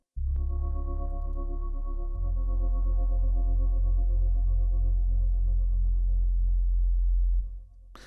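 A melodic techno break with a dark, very deep sustained bass and a thin tonal pad above, steady and loud for about seven seconds before dropping away, no talk.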